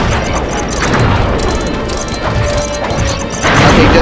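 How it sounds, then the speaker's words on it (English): A loud, sustained crash of an explosion in Sly 3: Honor Among Thieves, a dense rumbling roar that swells again near the end. "Okay, just go and explode."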